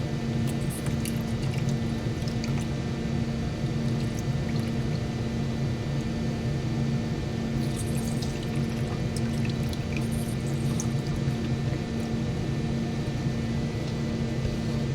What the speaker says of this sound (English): the airbrush I'm using is the Reaper Vex.